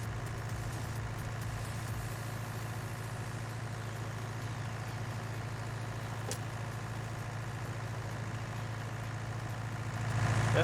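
A Fiat 1300 DT tractor in Farming Simulator 19, its six-cylinder inline engine idling with a steady low rumble that rises slightly at the very end, heard alone without talk.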